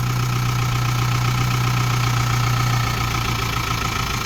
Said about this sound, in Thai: เสียงเครื่องนิ่มเลย